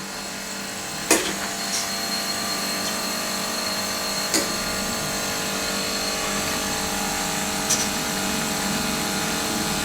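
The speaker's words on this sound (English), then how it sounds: "We will therefore wait for the compressor to build up the relevant 20 psi pressure." An air compressor on a test station runs steadily, building up to 20 psi, a constant mechanical hum and whir with a few sharp clicks or ticks spaced across the run.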